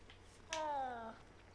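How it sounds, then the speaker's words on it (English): A cat in Hogwarts Legacy gives a single deep, drawn-out meow lasting about half a second, close and clear with nothing else around it. "Oh, that was a deep meow."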